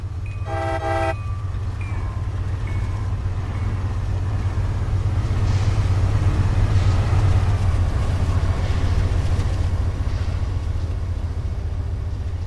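A train rolls past in the Train Simulator game on a Danbury to Grand Central route, a brief horn blast at the start, then a steady, loud rumble of wheels and cars continuing throughout.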